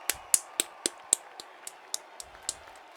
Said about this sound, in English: I'll clap.